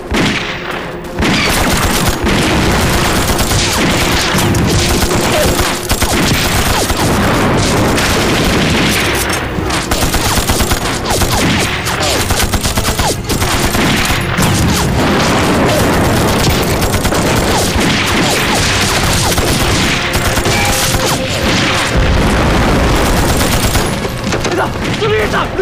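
A war drama battle scene with continuous loud machine gun fire and heavy booming explosions, dense and relentless, with shouting voices mixed into the din.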